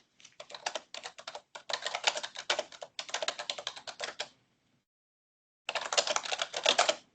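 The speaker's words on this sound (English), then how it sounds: "there's really loud clicking on the keyboard" Loud clicking keystrokes on a computer keyboard in a quiet meeting room, coming in rapid bursts for about four seconds, then a pause of silence before another fast run of typing.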